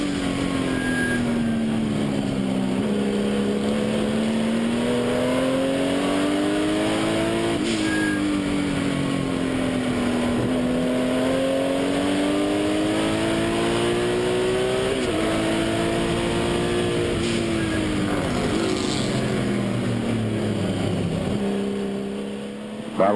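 Several race cars, among them a 1979 Porsche 935, roar loudly down a straightaway in a continuous, layered engine drone, with pitch rising and dropping through gear changes as the cars pass and one fades near the end.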